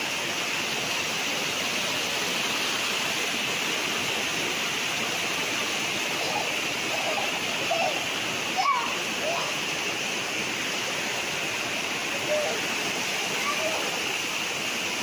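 A natural spring on a farm in Lucban, Quezon, flows and splashes steadily in a continuous hiss, with faint brief voices or calls briefly rising above it.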